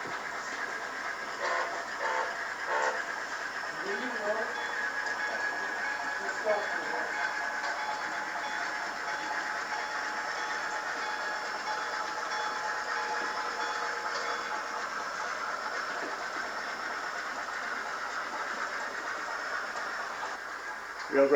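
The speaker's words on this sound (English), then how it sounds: "that's train number 1189 with 2 steam-powered units" Rio Grande train 1189, pulled by two steam-powered units, passes on track 2 near Tabernash with a sustained rumble, some rhythmic rail clatter and high squealing tones, steady throughout.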